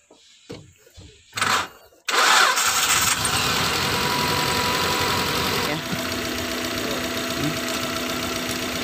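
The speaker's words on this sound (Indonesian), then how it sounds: "Kita coba hidupkan dulu mobilnya." Suzuki Futura injection car with a rough-running engine: a few brief cranking attempts, then the engine catches and settles into a loud, steady but uneven idle that hunts, heard up close and alone.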